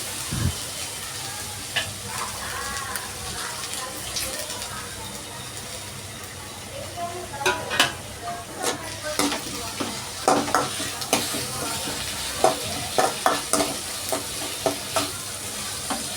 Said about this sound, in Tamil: இப்போ தக்காளி சேர்க்குறேன். அதை நல்லா வதக்குங்க.